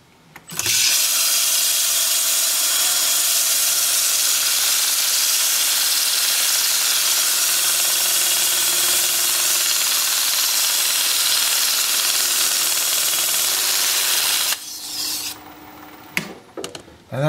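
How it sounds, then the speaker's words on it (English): A steady, loud abrasive rasp of a drill sanding inside a spinning wood-turned vase runs continuously with a motor whine, then cuts off near the end. "I'm going to run my drill in reverse at the same time."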